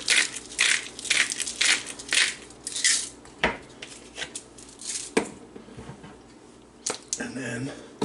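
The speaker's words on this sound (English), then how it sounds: "Some grinds of black pepper. Freshly ground, my friends." Freshly ground black pepper cranked from a mill, a run of gritty crunching twists repeating in quick bursts up close, with a voice talking over it.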